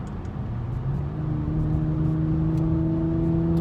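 A Porsche Macan Turbo with the Performance Pack revs in sport mode, its engine a loud, steady close drone whose pitch climbs as it builds, with no talking.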